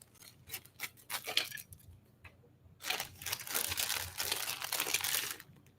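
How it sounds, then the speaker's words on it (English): Scissors snip and crunch through a plastic LEGO parts bag, a few close cuts followed by a pause and then a longer stretch of crinkling and rustling plastic. "use some scissors to open it because this bag's a different material"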